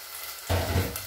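Tomato and pepper hit a hot pan for a sofrito for fish soup, breaking into a loud, sudden sizzle after a quiet moment and continuing as steady frying crackle.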